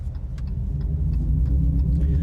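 A 2026 Dodge Charger Daytona Scat Pack four-door muscle car running in track mode, giving a steady low engine rumble heard from inside the car, with no talking.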